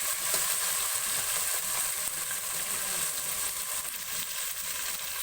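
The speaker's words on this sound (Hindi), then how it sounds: "टमाटर को थोड़ी देर भून लेंगे।" Two small tomatoes frying in a pan for kaleji masala give a dense, steady sizzle with faint stirring underneath. The sound is close and continuous throughout.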